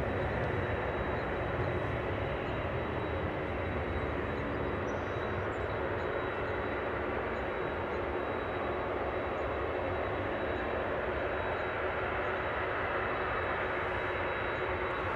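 Jet airliner engines roar at Ted Stevens Anchorage International Airport, a steady, broad, far-off rumble with a thin whine that holds unbroken for the whole stretch.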